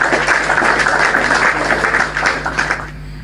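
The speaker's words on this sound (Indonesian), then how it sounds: "Tepuk tangan dulu kawan-kawan." Clapping from a group at an informal Ramadan gathering, a dense wash of hand claps lasting nearly three seconds before tapering off abruptly.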